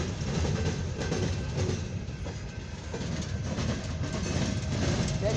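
A long, empty CSX coal hopper train rolls along the main track in Fostoria, Ohio, a steady rumble with rhythmic wheel clatter and the clank of railcars, heard up close with no one speaking.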